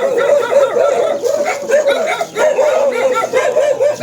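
Several dogs bark and yip continuously and loudly at close range, overlapping one another in a busy chorus on a farm in Isabela Province.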